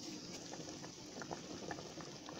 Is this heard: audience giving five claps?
no